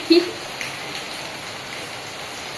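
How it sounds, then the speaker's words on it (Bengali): Steady, dense hiss of heavy rain pouring down continuously, with a brief faint knock at the start. "বৃষ্টির আওয়াজ তো সেই ঝমাঝম ঝমাঝম বৃষ্টি"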